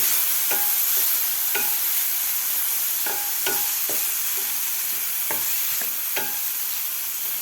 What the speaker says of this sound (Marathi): टोमॅटोसुद्धा आपल्याला एक मिनिटभर व्यवस्थित परतून घ्यायचं आहे